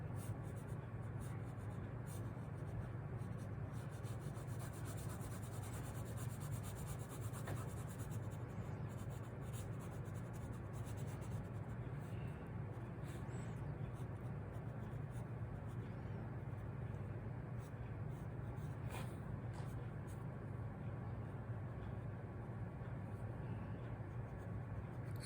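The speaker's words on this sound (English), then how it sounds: "I just add these sort of pencil-y tones to it." Soft, continuous scratchy rubbing of pencil on paper, close and quiet, going on steadily for the whole stretch without pause.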